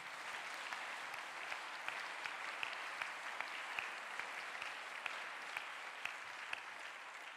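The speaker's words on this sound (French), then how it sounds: "Et je pense qu'on peut les applaudir aussi pour ça." Audience applause at the awards ceremony of an international competition for young conductors, a steady, fairly soft sheet of clapping from a large hall with a few sharper individual claps standing out.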